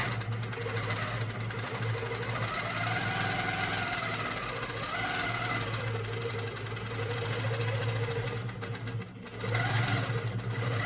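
A longarm quilting machine runs steadily, stitching horizontal lines across a jelly roll quilt with a square foot locked in place, a loud continuous mechanical whir with a brief pause near the end before resuming.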